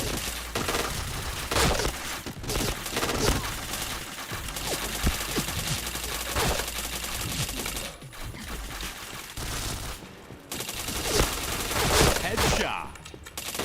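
Rapid gunfire and bursts of automatic weapon fire in a shooter video game, dense and loud throughout with overlapping shots and impacts, a brief lull near the end, and a voice heard faintly under the action.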